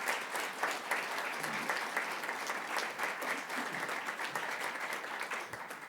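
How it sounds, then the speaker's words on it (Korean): Sustained audience applause at the closing and awards ceremony of a Korean law school moot court competition, steady and dense throughout, welcoming an official to the podium with no talk over it. "큰 박수로 환영해 주십시오."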